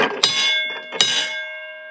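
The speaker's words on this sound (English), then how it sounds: "And what's cool is you got the little bell right here." Small signal bell at the top of a deep mine shaft at the Comstock Lode, Virginia City, struck twice about three quarters of a second apart, each ring bright and close with a long fading tone.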